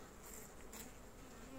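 Honey bee colony wintering in a hive, a soft, steady hum of many bees buzzing together, faint and continuous with no speech.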